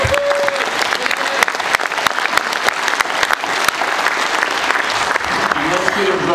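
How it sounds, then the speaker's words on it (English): An audience at a submarine veterans' Holland Club induction ceremony applauds steadily in a dense, continuous clatter of many hands, with a brief voice audible near the start. "Let's give Master Chief Stevenson a round of applause"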